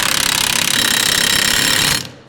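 A pneumatic impact gun hammers on a wheel nut in a continuous loud, rapid rattling burst for about two seconds, then cuts off and winds down.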